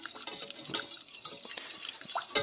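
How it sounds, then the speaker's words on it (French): A utensil stirs béchamel sauce vigorously in a pan, giving quick scraping strokes with occasional sharp metallic clinks against the rim, close and fairly quiet, with no talking. "Et là, il ne faut pas hésiter à mélanger vigoureusement"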